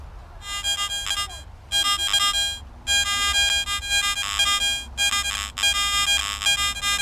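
Bursts of a high, buzzy electronic tone start and stop repeatedly, a Garrett ATX metal detector's iron discrimination signal pulsing over faint background noise.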